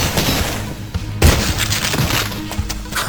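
A rifle fired one-handed in the game Cultic lets off a single heavy, booming shot. The crack is followed by a crashing, shattering tail over a steady bed of game ambience.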